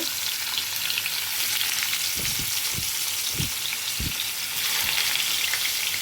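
Paneer pieces fry in hot oil seasoned with turmeric, giving a loud, dense, continuous sizzle up close. A few low knocks from the pan or utensil land in the middle, and nobody talks over it.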